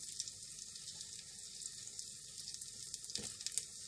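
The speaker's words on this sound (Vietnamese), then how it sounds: "Mình sẽ chiên cái lửa nhỏ nha các bạn, mình chiên từ từ để cho nó vàng đều hết một mặt" Rice flour cakes (bánh bột chiên) frying in a pan over low heat, giving a steady soft sizzle and crackle that carries evenly throughout with a few brief clinks near the end.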